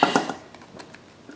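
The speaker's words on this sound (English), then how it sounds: "All right, Chris, I'm about to pull off the backers." Backing paper peeled off adhesive dimensional foam pads at close range, a few quick tearing rips followed by fainter crackles and ticks, with no talking.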